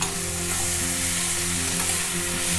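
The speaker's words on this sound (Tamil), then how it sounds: "நல்லா வதங்கட்டும். பாருங்கள், தக்காளி நல்லா மேஷ் ஆகிடுது." Tomatoes and chana sauté in a pan with salt, giving a steady, dense sizzle close by that carries on without a break and with no voices.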